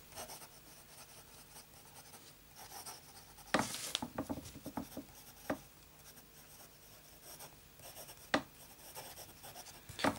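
A fountain pen with a saturated medium nib writing on paper: soft, close scratching and rubbing strokes in short bursts, with a few sharper taps between quiet pauses.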